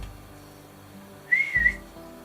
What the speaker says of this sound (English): do that terrible little whistle